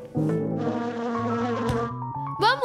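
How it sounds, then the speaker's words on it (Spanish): A cartoon bee buzzes in a close, bright, wavering drone with sliding pitch, broken off by a short squeaky sound effect near the end and no talk over it. "¡Toma, pequeña abeja!"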